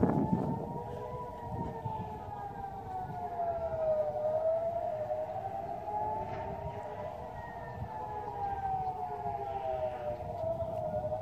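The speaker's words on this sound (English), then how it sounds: "we have sirens going off." Civil defense sirens near Qumran by the Dead Sea wail steadily in the distance, rising and falling in long sustained tones over faint background noise.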